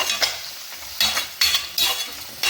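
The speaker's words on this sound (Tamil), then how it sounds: "இதை நல்லா மிக்ஸ் பண்ணிக்கலாம்." Stirring and mixing in a pan of fish curry base with green chillies and crushed garlic for rock fish kulambu, a few scraping strokes over a soft sizzle, close and without talk.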